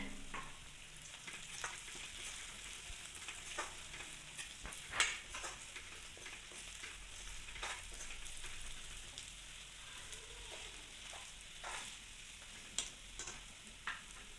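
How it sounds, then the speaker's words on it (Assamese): Quiet, crackling sizzle of ginger, garlic, onion and green chilli frying in a pan with turmeric and red chilli powder, with scattered light clicks and scrapes of stirring throughout. "আদা, নহৰু, পিঁয়াজ, জলকীয়া সেইবিলাক অলপ ভাজি থাকিব লাগে"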